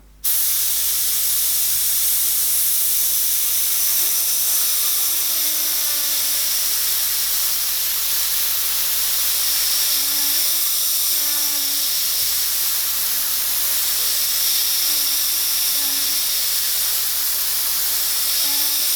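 Steady airbrush hiss of paint spraying, continuous and close for the whole stretch, as smoke is painted curling out of a skull's eye socket, with no talking.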